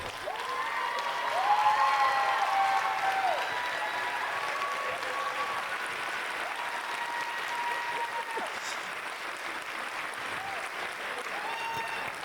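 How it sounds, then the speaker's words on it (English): At a live competition finals show, a large audience gives sustained applause for the contestants' parents, with a broad wash of clapping and some cheering that carries on steadily and fades slightly toward the end. "put your hands together and give them a big round of applause"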